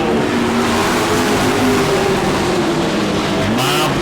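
Stock cars race on a dirt oval in the final lap, a continuous loud engine roar with droning, shifting pitch close by and a brief brighter burst near the end, no speech.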